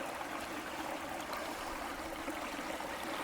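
Water flowing steadily through a sluice box lined with a silicone mat, a continuous close rushing wash with no breaks.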